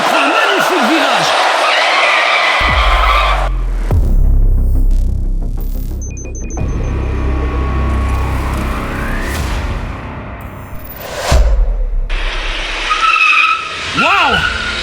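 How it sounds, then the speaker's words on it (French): A race car accelerates and skids hard through a turn, with loud screeching tire squeals and roaring engine sweeps rising and falling over about fifteen seconds, close by, with excited commentary layered over it. "superbe accélération du pilote Francis Boursemol qui prend un magnifique virage"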